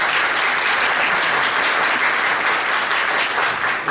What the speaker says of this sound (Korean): 다시 한번 큰 박수 부탁합니다